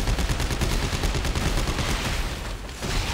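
Rapid automatic gunfire from the Dead Space 3 co-op game, a dense, loud, continuous burst of shots lasting a few seconds, close and unbroken with no talk.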